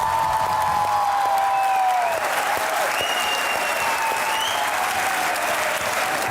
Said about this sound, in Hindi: आपकी भरपूर तालियों में द अमेजिंग मुनीफ फारूक